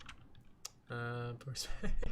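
Light clicking of fingers typing on a computer keyboard, a few quick taps at the start, followed by a sustained tonal beep and a voice speaking faintly underneath.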